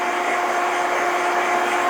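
Hair dryer blowing steadily at close range on a medium-length mod haircut, a continuous whooshing airflow with a steady motor whine throughout, no voices.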